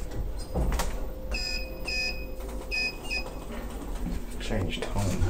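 Pickerings lift doors at the Riverside Park Hotel in Enniscorthy sliding shut, with a steady mechanical hum and several bright repeated chime tones partway through, close and fairly loud.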